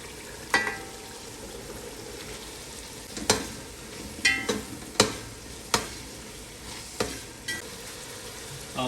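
Boiled chickpeas are stirred into a soft tomato masala, a steady sizzle punctuated by about eight sharp spoon-against-pan knocks at uneven intervals, close and fairly loud.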